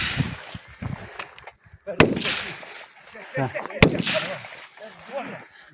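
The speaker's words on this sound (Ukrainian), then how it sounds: "Пішли постріли." Gunshots at a military evacuation-under-fire drill in Ukraine, fired at a target 50 metres away: a few sharp, loud cracks spaced apart, with people talking between them.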